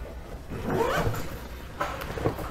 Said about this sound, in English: Now it does have a zippered front right here, a zipper here, and a zipper here.